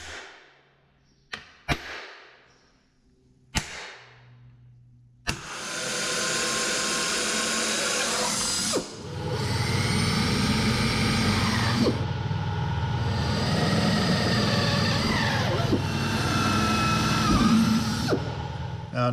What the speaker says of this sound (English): right now I'm going to start drilling on these and get it taken apart